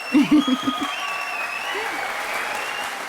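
A studio audience at a televised courtroom-style talk show breaks into a burst of clapping that fades under a voice as he begins speaking.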